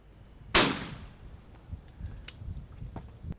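Shotgun fired at a clay target on a sporting trap course in brisk wind: a single loud, sharp outdoor report with a short fading tail, followed by faint wind and background noise.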